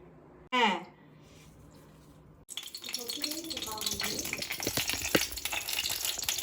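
Crab hitting a hot pan in a home kitchen, a sudden sizzle and crackle that begins partway through and keeps hissing steadily, close and fairly loud, after a brief voice at the start.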